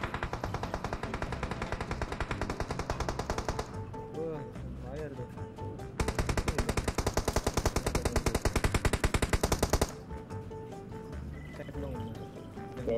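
Rapid bursts of automatic gunfire in PUBG Mobile rattle in two long stretches, broken by quieter gaps of game sound effects and a voice in the background.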